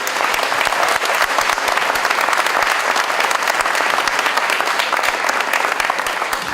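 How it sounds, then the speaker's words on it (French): Loud, sustained audience applause fills a hall at an opening ceremony, dense crowd clapping throughout with crisp individual claps standing out. "je vous demande d'applaudir le comité directeur et le comité stratégique à nouveau"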